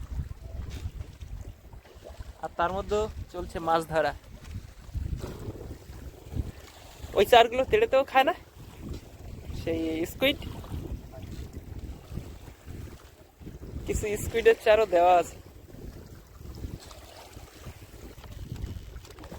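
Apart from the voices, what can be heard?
strong wind on a rocking boat, Sundarbans river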